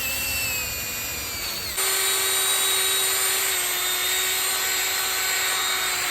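Power tool honing the lifter bores of a 1970 Ford Falcon 5.0 engine block, a loud steady high whine that steps up in pitch and strength partway through and then holds constant, with no talking.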